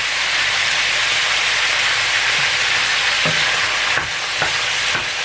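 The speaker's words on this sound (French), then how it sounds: "Et je fais revenir." Chicken gizzards with coriander sauté in a hot pan, a loud, steady hiss of frying with a few scraping stirs near the end.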